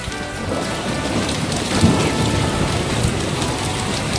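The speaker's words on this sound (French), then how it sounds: "parce qu'en même temps, il y a de l'orage!" A thunderstorm with rain and hail in the Les Sims 2 DS video game, a dense, steady hiss of pouring rain with a low rumble of thunder swelling briefly midway.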